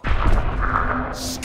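A grenade blast in the shooter game Valorant, a loud broadband boom that starts sharply and rumbles on for over a second, ending in a bright burst of high-pitched debris or effect noise.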